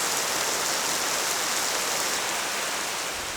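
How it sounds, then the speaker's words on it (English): Heavy rain pours down in a constant dense hiss, loud and unbroken, with no other sounds. "It is really coming down right now."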